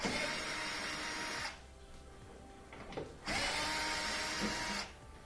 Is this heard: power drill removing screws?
yes